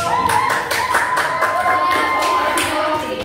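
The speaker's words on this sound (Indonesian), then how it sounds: "Berikan aplaus untuk kelompok." A classroom audience claps for a student group during a coaching session, dense continuous hand clapping with bright rhythmic slaps, fairly close and loud, with faint voices mixed in.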